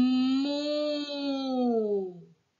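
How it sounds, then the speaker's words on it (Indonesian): A single cow's moo: one drawn-out, tonal low call that sags slightly in pitch and stops abruptly after about two seconds, heard clear and alone. "Iya, itu binatang sapi"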